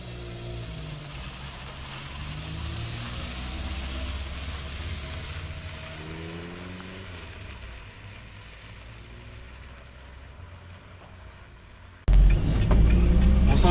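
Renault 6 TL driving along the historic Route Nationale 7 through La Palisse, its engine a steady low rumble heard from inside the car, rising and settling with gear changes before a sudden louder burst of wind and road noise at the end.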